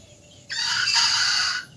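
A native farm chicken gives a single loud, close crow lasting about a second, with a faint background hum before and after and no voices.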